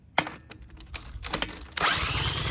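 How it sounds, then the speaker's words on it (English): Cordless power drill used to crank a Honda GCV 160/190 lawnmower engine: rattling clicks and knocks, then the drill motor whirs up loudly and runs steadily to the end. "My trusty drill."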